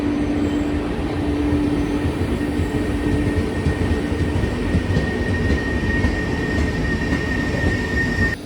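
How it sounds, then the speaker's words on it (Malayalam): The Antyodaya Express, running from Mangalore to Thiruvananthapuram North, rumbles past close by, a loud continuous roar of rail cars and wheels with a faint steady squeal over it. "മംഗലാപുരത്ത് നിന്ന് തിരുവനന്തപുരം നോർത്ത്, അതായത് പഴയ കൊച്ചുവേളിയിലേക്ക് പോകുന്ന അന്ത്യോദയാണ് ഇത്."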